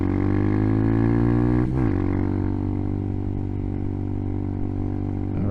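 A modified Hawk 250 motorcycle engine held at full throttle, a loud, steady, droning high-rpm buzz with one brief dip and recovery as the rider shifts, recorded close up.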